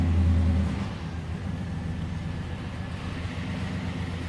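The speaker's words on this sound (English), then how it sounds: "Catch a little tailpipe sound there" Idling exhaust note from the tailpipe of a classic car offered for sale, a steady low rumble heard close up that starts slightly louder and then settles into an even burble, with no talk.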